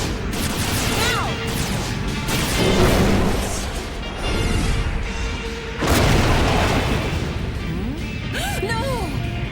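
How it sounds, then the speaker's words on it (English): Anime battle sound effects of repeated gunfire and booming explosions, loud and dense throughout, with laser-like zips and whooshes layered over rumbling blasts. "On my signal, we both open fire."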